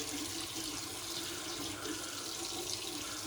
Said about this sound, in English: Let's add a bit more water.